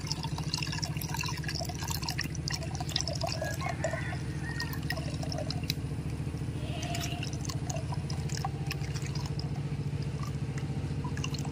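Jackfruit juice runs through a strainer while the pulp is pressed, making a soft, continuous wet dripping and trickling close by over a faint background hum, with no talking.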